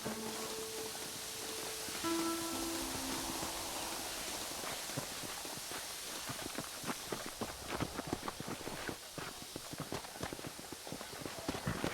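Horses' hooves in the Western video game Red Dead Redemption, a rapid run of close clip-clop beats building over a steady wind-like hiss, with a short tonal sound early on.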